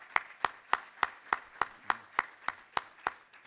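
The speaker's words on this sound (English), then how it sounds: "Miguel, give him another round of applause" Applause at a high school hall of fame induction ceremony comes as a single steady run of evenly spaced, sharp claps, roughly three per second, close and distinct with no voices.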